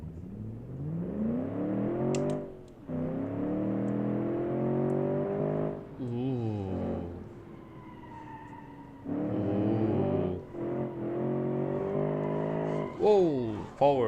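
A synthetic car engine in the BeamNG driving game revs up and down repeatedly, whining through rising and falling pitch sweeps with short gaps between bursts, loud and close.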